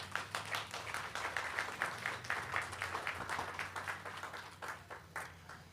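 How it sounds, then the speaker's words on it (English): An audience at an outdoor Republican Women of Mason County candidates event in a park claps for several seconds, a moderately distant, fairly quiet patter of many hands with a low hum underneath. "give yourselves a round of applause"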